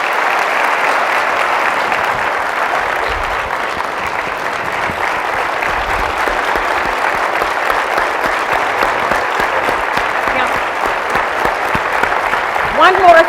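Sustained audience applause for Justice Sandra Day O'Connor fills the room at a steady, dense level, a continuous wash of many hands clapping throughout.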